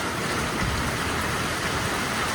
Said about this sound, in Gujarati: સાચે જ વરસાદ આવ્યો મિત્રો